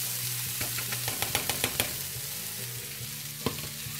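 Onion frying and sizzling in a pan as grated carrots go in, a steady close hiss with a short run of quick taps and scrapes, then one more knock near the end.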